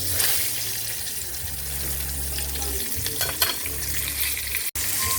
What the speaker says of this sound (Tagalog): Nagprito na po tayo ng ating pork chop.